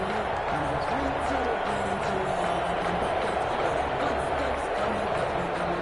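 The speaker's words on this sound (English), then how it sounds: "this crowd loves it as their guys hold on the opening drive" Football stadium crowd cheers in a dense, sustained roar with scattered clapping, loud and continuous, while a commentator talks over it.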